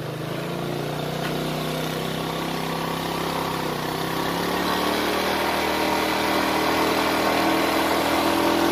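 A vehicle engine labours up a steep road toward Durian Hill, a steady, loud drone with a low hum that rises slightly in pitch and strength as it pulls along, with no voices over it.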